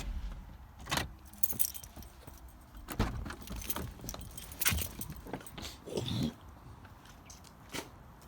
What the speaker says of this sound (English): I'm gonna turn the car off.